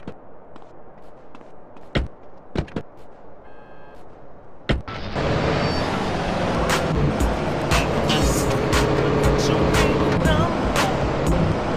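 A car is driven in GTA San Andreas. After a few sharp clicks and a door-like thud, a loud, steady engine and road drone starts and keeps going to the end.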